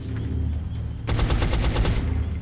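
Video game gunfire from XCOM: Enemy Unknown: after a brief lull, a sudden loud volley of rapid, closely spaced shots rattles off for over a second and fades with a ringing tail.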